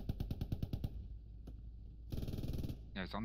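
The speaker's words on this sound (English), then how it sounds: "Fucking MG42 on my position" Rapid bursts of MG42 machine gun fire in the World War II shooter Post Scriptum, a fast rattling string of shots, a pause, then a second burst, followed by a brief voice.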